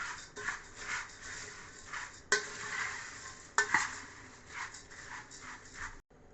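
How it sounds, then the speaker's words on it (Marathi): Dry sukha bhel ingredients being tossed and mixed with salt and chaat masala, soft rustling shuffles with a few sharp clinks of a spoon against the bowl, quiet and close. "हे सर्व मिक्स करून घेऊयात"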